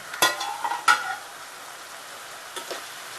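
Onion with turmeric being cooked in a pan for mutton kaleji gravy, with a couple of quick scraping stirs near the start, then a faint low sizzle and a few light spoon taps later; no talking.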